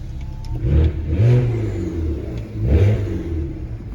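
BMW 335is engine revving in two strong, close bursts about a second and a half apart, each swelling and falling back to a low idle rumble between them, with no talk over it.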